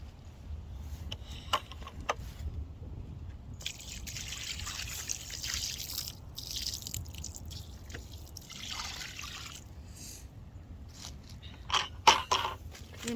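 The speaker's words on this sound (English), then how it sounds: "So I'm actually going to go ahead and pour some more water here." Water poured onto the soil around a newly planted fruit tree in a backyard garden, a steady close trickle and splash with scattered drips and a few louder splashes near the end, no talk.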